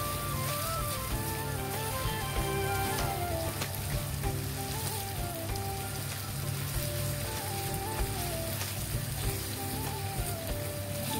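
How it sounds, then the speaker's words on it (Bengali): Dried mola fish fries in spice paste, giving a steady, close, crackling sizzle that continues throughout with no talking. "এরপর শুটকিটাকেও ভালো করে সুন্দর মতো কষিয়ে নিতে হবে যতক্ষণ পর্যন্ত না শুটকিটা একটু সিদ্ধ হয়ে আসছে।"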